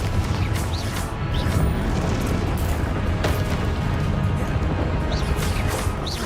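Confringo explosive spell cast in Hogwarts Legacy, a dense sustained blast of rumbling, crackling booms with low-end weight and scattered bright bursts, loud and continuous for several seconds without speech.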